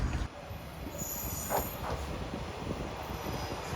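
A local train in Japan rolls steadily along the rails toward Miyazaki with a continuous rumbling drone and faint rattling, heard from inside the carriage with ceiling fans, with no talking.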